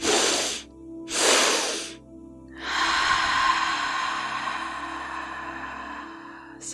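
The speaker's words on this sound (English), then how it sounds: "taking in air on the first inhale through the nose, and then as much air as you can on the second sniff" Two quick nasal sniffs in a row, then a long, steady breath blown out through an open mouth, close and clear with no talking.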